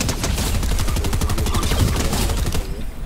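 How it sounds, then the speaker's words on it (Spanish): Rapid automatic gunfire rattles in a dense, continuous burst for about two and a half seconds, then cuts off abruptly into near silence. "¿Quién está disparando ese, güey?"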